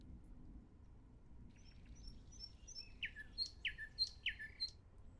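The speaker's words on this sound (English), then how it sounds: "Bird sounds, I guess" A bird-song sound effect plays faintly over a low steady background hum, with high chirps and tweets growing more frequent and slightly louder over a few seconds.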